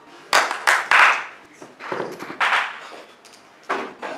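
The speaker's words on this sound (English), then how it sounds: "so give us a clap" An audience at a children's climate summit in Africa claps in uneven bursts. Loud, close clusters of claps are separated by quieter gaps, and faint voices come through between them.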